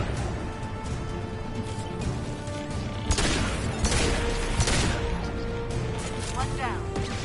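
Gunfire in the video game Mass Effect 2: a few sharp, loud bursts crack through a dense, continuous battle din, with voices talking over the fighting.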